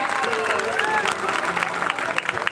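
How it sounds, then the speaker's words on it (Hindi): Steady applause from a village audience at a two-day Manas recitation gathering in Arjuni, continuous and dense throughout, with a faint sung or spoken tone threading through it. "ताली बजा दो बाबूजी पर ताली।"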